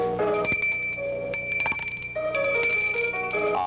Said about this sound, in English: I have rung the bell directly over your head